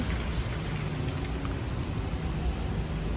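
Steady, dense hiss of heavy rain pouring down, continuous and fairly loud throughout with no voices.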